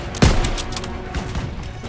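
Gunfire in a World War II battle in the video game Call of Duty WW2: a sharp close shot opens a fusillade of overlapping distant rifle and machine-gun fire crackling on beneath a steady battlefield rumble.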